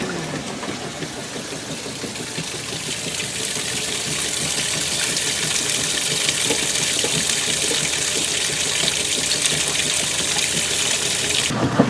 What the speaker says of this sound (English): Oh yes, the softener fart bubbles.